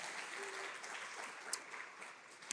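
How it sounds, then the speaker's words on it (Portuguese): Faint, distant clapping from a church congregation applauding in worship, soft and continuous with a couple of sharper claps near the end. "então aplaude o Senhor como ato de fé"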